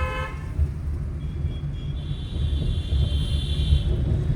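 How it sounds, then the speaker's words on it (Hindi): A car horn sounds from inside a car on a highway during a driving lesson, a faint high tone lasting for about two seconds over steady engine rumble and road noise. "लॉन्ग हॉर्न प्रेस करो"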